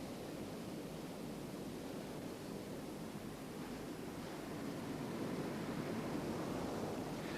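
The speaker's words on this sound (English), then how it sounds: "the breaking waves push them up the beach and the backwash draws them down again" Ocean surf breaking on a sandy beach, a steady broadband wash and roar of waves that swells slightly toward the end, with no voices.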